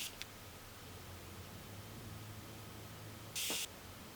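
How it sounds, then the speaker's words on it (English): A single short hiss of setting spray misted onto the face, close and fairly loud near the end, following a tiny spritz at the start over a quiet room. "I spray my face one more time."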